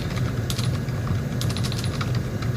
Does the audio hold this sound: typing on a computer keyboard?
yes